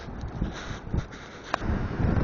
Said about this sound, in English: Definitely a good windy day for it,